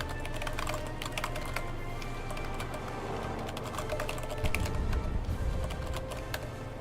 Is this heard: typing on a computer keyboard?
yes